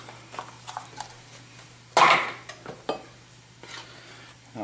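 A spoon stirring cumin, paprika and oregano into a pot of homemade enchilada sauce, heard as soft scraping and clinks with one louder scrape of utensil against the pot, no talking.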